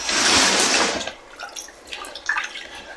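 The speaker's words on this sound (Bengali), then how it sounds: "এখন আমরা ধুয়ে নিব।" Water splashes loudly as a face pack is rinsed off by hand, then fades into softer drips and small trickles close by.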